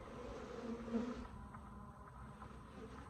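Cordovan Italian/Africanized hybrid honeybees buzz at their hive in a steady, dense drone that swells slightly near the start and then holds even, with no voices.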